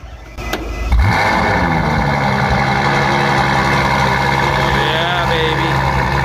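Ferrari F12 V12 cold start: a sharp crank and bark catches about one second in, then settles into a loud, steady, rumbling idle close by, with faint background voices.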